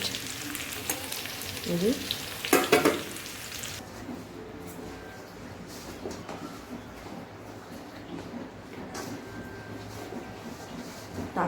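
Tomatoes frying with spices and ginger-garlic paste, a steady close sizzle with brief stirring clatter early on, then a softer continuous hiss under a brief spoken word.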